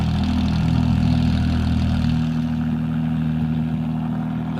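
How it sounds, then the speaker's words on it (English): Ferrari 296 Challenge race car engines run together in the pits at a Ferrari Challenge race at COTA, a loud, dense low rumble that rises early and then settles to a steadier drone, with no talk. "rumble of the 296 Challenge engines being fired up"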